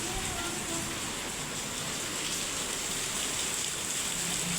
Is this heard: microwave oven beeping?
no